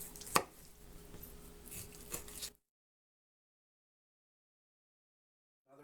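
A knife cuts through a whole chicken along the breastbone during home butchering for canning, making a few sharp close cuts and scraping sounds, then a long silence.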